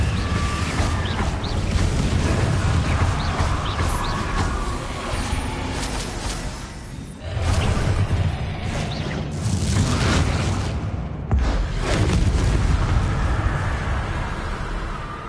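Confringo fire spell explosions in Hogwarts Legacy, a loud, dense stretch of blasts, whooshes and rumbling bursts that runs throughout with a couple of brief dips, close and full.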